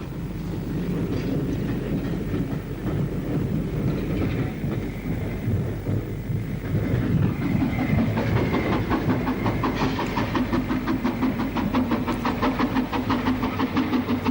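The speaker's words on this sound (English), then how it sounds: "Southbound train calls at Tullach." A southbound steam-hauled train calls at a rural Welsh station, with a continuous rumble, hiss of steam and a later run of regular rhythmic chuffs as it moves.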